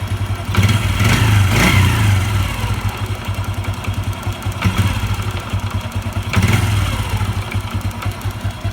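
Honda Revo 110 motorcycle engine idling close by with a worn clutch, a steady low putter broken by a few brief louder knocks or clunks, with no voices.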